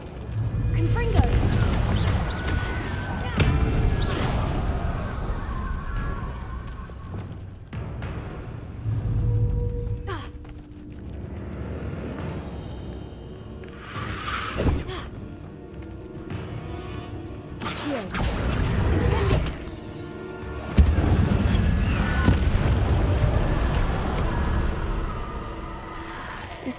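A Confringo explosion spell bursts in Hogwarts Legacy near a river by the forest, a series of whooshing blasts and crashes over steady game ambience and music, with a voice speaking at times.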